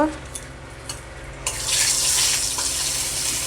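Asafoetida tempering for chana masala hits hot oil, a quiet kitchen suddenly bursting into a loud, steady crackling sizzle halfway through that keeps hissing to the end.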